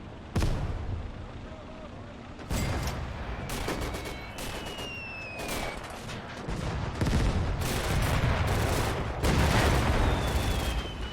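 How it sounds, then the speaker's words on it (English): Artillery and gunfire in a World War II video game, set in a 1941 German invasion of the Soviet Union: repeated heavy booms and bursts of shots, some close and loud, with a voice talking over the battle. "Artillery support."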